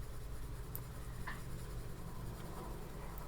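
Graphite pencil rubbed back and forth over paper to flatten and burnish it, a soft, steady scratchy hiss with faint strokes, close and quiet, with no voices.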